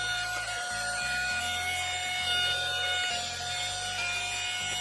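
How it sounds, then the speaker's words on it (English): Screws being worked out of the battery tray on a Traxxas Sledge RC truck, a steady mechanical whir with stop-start bursts, close and continuous with no talking. "Let's flip this over and remove the screws that hold this battery tray in."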